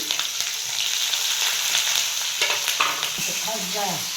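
Green chillies fry in hot oil with mustard seeds, cumin and asafoetida, a loud close sizzle and crackle with stirring scrapes, and a voice briefly heard near the end.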